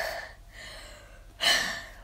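Two deep breaths taken close and quietly, each a soft drawn-in rush of air, the second stronger and sharper than the first.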